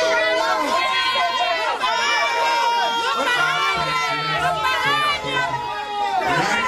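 A dancehall sound-clash crowd at a 2007 Justice Sound event chatters and shouts in a dense, continuous hubbub, with music and a loud voice over the mix throughout.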